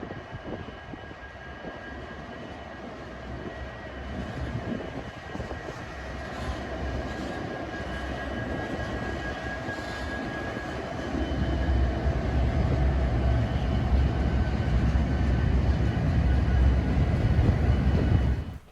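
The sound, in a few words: coal freight train headed by three 90 class locomotives passing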